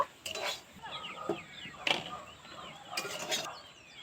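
Cooked paneer filling is scraped and poured from a pan, giving a few close metallic clinks and scrapes, with faint bird chirps in the background.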